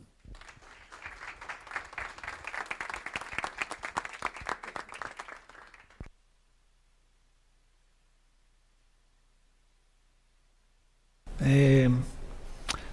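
Audience applause rising at a Café Filosófico talk on the global climate agreement, a steady dense crowd clapping for about six seconds before it cuts off, followed by silence and then a brief loud voice.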